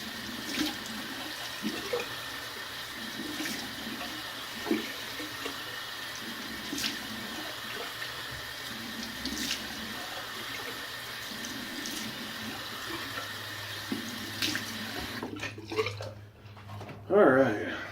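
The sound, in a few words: tap water running for a cold water rinse after shaving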